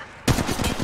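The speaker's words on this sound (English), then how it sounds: "Shots to my left." A sudden burst of rapid gunfire in the video game Apex Legends Mobile, a loud, close run of several quick shots after a short quiet moment.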